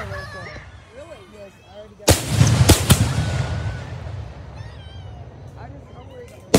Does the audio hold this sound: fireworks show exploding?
yes